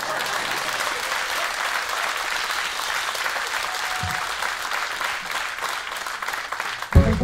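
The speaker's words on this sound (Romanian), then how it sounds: "Așa, aplauze, da." A concert crowd at a show applauds, a loud, dense, steady roar of clapping that runs for about seven seconds before a sudden low thump near the end.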